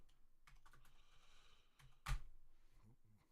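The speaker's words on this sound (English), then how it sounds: "I'm typing that as I'm talking." Quiet, uneven clicking of a computer keyboard being typed on, one louder clack partway through, with faint background hiss.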